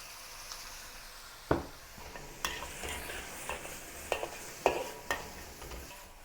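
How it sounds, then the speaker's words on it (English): Vegetables hiss softly as they stir-fry in a hot wok while a utensil scrapes and clacks against the metal in irregular strokes, close by and without speech. "Add the vegetables of your choice to the wok and continue stir frying"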